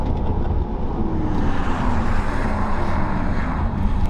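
A Porsche Taycan Cross Turismo electric wagon accelerates hard in Sport Plus mode, a steady broadband rush of road and wind noise building with a faint rising whine, no voices.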